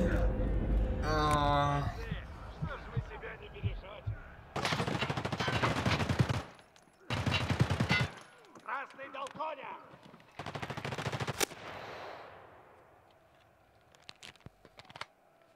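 Gunfire in an arena-style shooter video game, several loud sustained bursts of rapid automatic fire separated by quieter gaps, with players talking and laughing in between.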